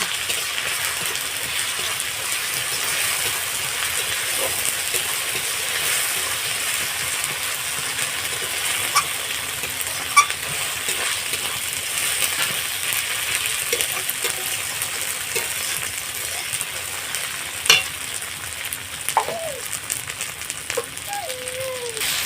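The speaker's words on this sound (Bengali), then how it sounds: "তারপরে দেড় চামচ চার চামচের আদা রসুনের পেস্ট দিলাম দিয়ে আমি মশলাটাকে ভালোভাবে কষিয়ে নেব" A masala of chilli powder and ginger garlic paste frying in a pan: a continuous close hiss of sizzling oil with occasional faint clinks and scrapes of stirring, steady throughout with no talking.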